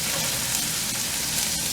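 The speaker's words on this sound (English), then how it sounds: "My onion is trying to burn out of it." Onion and garlic frying in a pan for keto cauliflower dirty rice, a steady close crackling sizzle with fine popping throughout, no voices.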